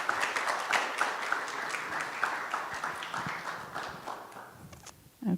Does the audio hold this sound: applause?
yes